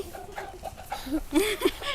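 Chickens cluck in short, close bursts around a small child being fed outdoors, with the calls growing louder and more frequent toward the end.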